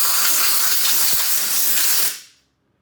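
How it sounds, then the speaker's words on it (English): Compressed air blasts steadily from a nozzle into the bowl of a Honda push mower carburetor, a loud continuous hiss lasting about two seconds before cutting off abruptly. "So let's get this bowl blown out."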